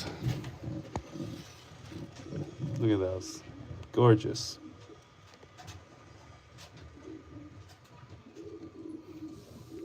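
Pigeons in a breeder loft, young birds among them, give soft coos and rustling close by, with a few louder bursts around the middle, while a person talks over them.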